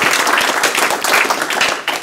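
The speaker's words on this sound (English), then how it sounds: "a big round of applause for the Things Network" An audience at a LoRa Alliance tech event applauds, close, loud and dense clapping with distinct individual claps throughout.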